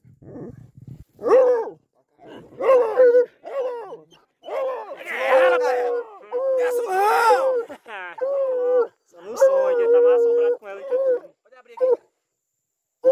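Hunting dogs baying and howling during a paca hunt in the Brazilian bush, a series of drawn-out, wavering howls and yelps coming in bursts with short pauses between, fairly close and loud.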